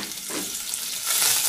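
Leftover butter sizzles in a saucepan over medium heat, a steady close frying hiss that grows louder and brighter toward the end, with no voices.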